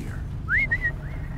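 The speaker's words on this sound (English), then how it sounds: "the echo on the whistle is a thing" Whistle echoing in the Horizon Zero Dawn video game: a single rising tone that holds steady, then repeats more softly as an echo, over a low rumbling game background.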